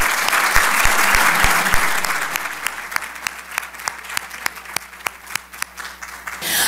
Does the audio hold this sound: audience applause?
yes